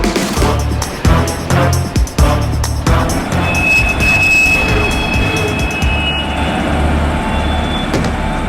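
A freight train rumbles along the rails in an animated cartoon, wheels clattering rhythmically with a high metallic squeal running through the steady, loud roar.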